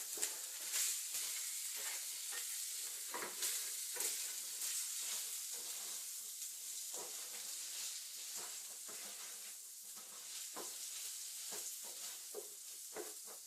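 Taro curry with turmeric and salt being stir-fried in a pan, a steady hissing sizzle broken by repeated scraping strokes of a spatula, close and without voices.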